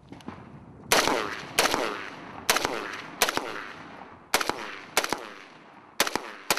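Sharp gunshots crack out during military weapons training with Air Force special operators and an Army platoon, about ten loud reports arriving singly and in quick pairs at irregular intervals, each followed by a short ringing decay.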